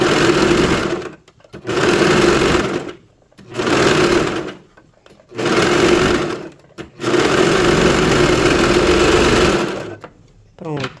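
A sewing machine stitches the cuff of a pet dress, running loud and near in five bursts of one to three seconds, broken by brief pauses as the fabric is stretched.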